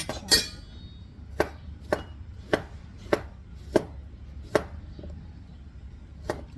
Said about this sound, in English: now they want you to chop it